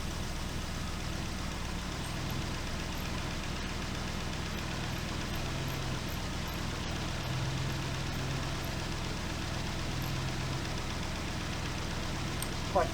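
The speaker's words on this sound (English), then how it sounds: "Valve gear makes a lot of noise in this engine." A 1971 Triumph Stag engine with newly fitted Stromberg carbs runs steadily at idle, its valve gear giving a constant busy ticking clatter over the engine's low hum, nearby and unbroken.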